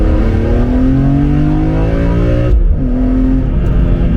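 A BMW CSL engine climbs through a loud, steady rising rev, cuts off abruptly for a gearchange, then picks up again close by with no voices.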